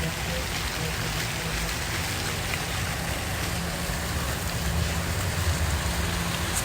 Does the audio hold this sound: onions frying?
no